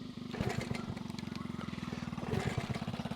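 A Honda Z50A minibike engine being cranked, giving a fast even chugging pulse that runs steadily close to the microphone for a few seconds, rising slightly near the end.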